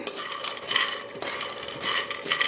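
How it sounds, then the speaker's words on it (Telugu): Peanuts roasting in a pan, a steady dry rattling and scraping as they are stirred and tossed, close and fairly loud with no talking. "సో పల్లీలను కూడా ఇట్లా వేయించుకోవాలి మంచిగా"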